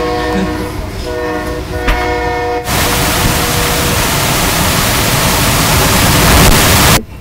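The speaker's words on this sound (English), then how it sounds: "Just let the train go by." A train rolls past at close range, its horn sounding in long tones before a loud, steady roar of rail cars takes over for several seconds and then cuts off.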